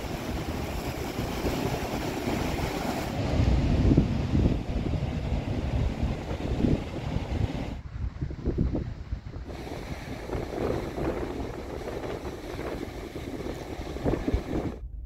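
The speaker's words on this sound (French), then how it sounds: "La mer elle est vraiment déchaînée là." Loud wind buffeting the microphone over crashing, churning waves of a very rough sea, with brief dips where the gusts drop out before roaring back.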